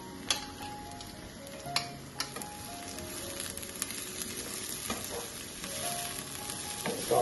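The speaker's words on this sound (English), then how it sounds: "Saute that a little." Toor dana and tomato sautéing in a pan, a steady low sizzle with occasional sharp ticks and clinks of a spoon scraping and stirring, close and moderately quiet with no talk.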